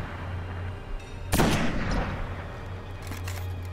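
A powerful exotic gun with strong recoil fires in the Destiny video game. One loud, close blast rings out and decays into a long rumbling tail over a low steady background hum.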